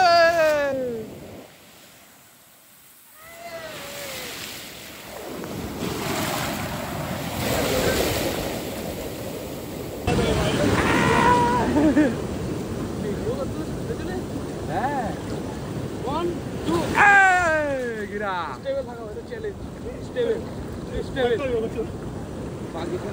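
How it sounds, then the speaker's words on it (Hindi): Big ocean waves at Bakkhali beach roll in with a steady broadband roar and wind buffeting the microphone, swelling louder near the middle, while people talk over the surf. "अभी तो बड़े बड़े लहरें आ रहा है इधर।"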